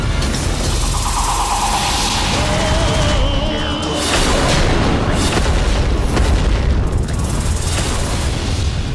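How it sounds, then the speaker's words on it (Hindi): A dense, continuous roar of blasts and crashing rumble fills the whole stretch, loud and heavy with a booming low end and no pauses. "ऐसा विनाशक विस्फोट इन देवियों को हताश करेगा।"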